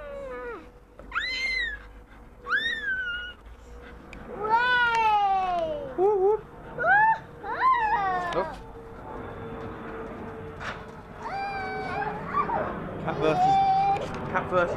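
Cat meows repeatedly, with rising and falling yowls, some drawn out like caterwauling, close and loud over a background of voices talking.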